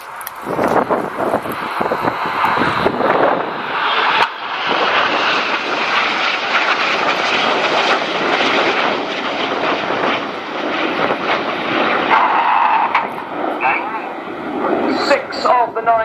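Red Arrows display jets roar past at an air show, a loud, broad jet rush swelling and sustaining over many seconds with wind buffeting, while a commentator talks over it.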